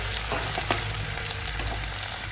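Spices being stirred into a small amount of cauliflower with onion and cumin in a hot pan, a steady sizzle with faint scraping strokes throughout, close and alone.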